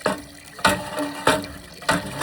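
Water gushes from a hand-pumped borewell in four rhythmic surges about every 0.6 seconds, each with a splashy burst and a mechanical clank from the pump handle, close and moderately loud.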